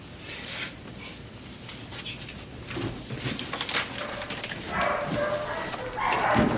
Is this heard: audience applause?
no